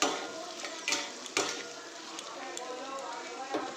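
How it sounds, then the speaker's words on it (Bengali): Onions frying in a pan with whole spices for a Bengali fish posto dish, giving a steady crackling sizzle that runs throughout, broken by a few louder stirring scrapes and clinks. "পেঁয়াজগুলো আমি ভালো করে ভেজে নেব।"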